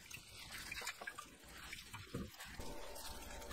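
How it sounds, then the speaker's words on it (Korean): Fresh seaweed being rinsed in lukewarm water, with steady sloshing and running water close by, brief louder splashes partway through, and no voices. "새로운 미지근한 물을 받아서 3번 반복해서 헹궈냅니다"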